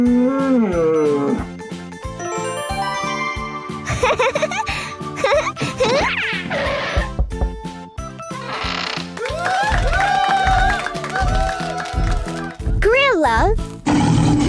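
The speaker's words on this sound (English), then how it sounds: "Cow." A cow mooing in a children's animal-names lesson, its drawn-out low calls set among music, bright sound effects and a narrating voice.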